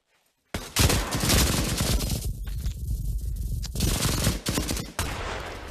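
A machine gun in the WW2 shooter game Pavlov fires long loud bursts of rapid automatic shots after a brief quiet start, with short gaps between bursts.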